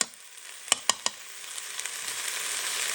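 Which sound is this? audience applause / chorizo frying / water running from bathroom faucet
chorizo frying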